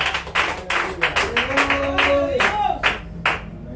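A church congregation claps their hands in steady rhythmic unison during a Spanish-language worship service, loud and close, with a voice singing or calling out over the claps.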